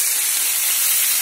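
Hot oil spatters and hisses in a frying pan while cooking cutlets for dinner, a steady bright crackling sizzle close by with no talk.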